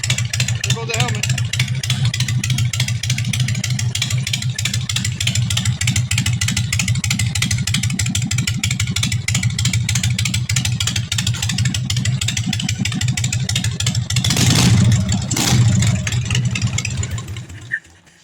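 Harley Sportster motorcycle with loud drag pipes, its engine running with a rapid, steady, throbbing loud exhaust pulse close by, then briefly revving harder near the end before cutting off; voices can be heard talking.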